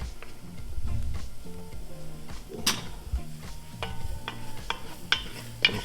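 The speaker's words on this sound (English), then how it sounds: "Now here comes my good old faithful wooden flat-ended spoon to do the scraping of the bottom of the pan" A wooden flat-ended spoon scrapes and stirs across the bottom of a pan of browning chicken for white chicken lasagna soup, with steady close sizzling under irregular scraping strokes and a few sharp knocks against the pan.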